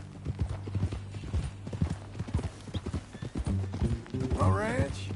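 Horse hooves clip-clop in a steady walking rhythm through a Red Dead Redemption 2 scene, close and clear, with a brief whinny near the end while people talk over the hoofbeats.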